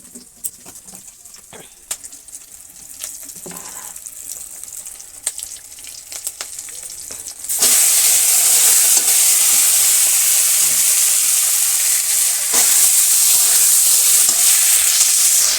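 Beans frying with garlic, salt, turmeric and chilli in a village kitchen pan are stirred with scraping clinks, then a loud steady sizzle surges in midway and holds; birds are faint in the background.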